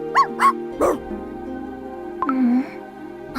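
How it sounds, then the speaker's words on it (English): A dog in Cookie Run Kingdom gives a few short yipping barks up close, followed by soft whimpering tones over a quiet musical background. "What's with all this barking?"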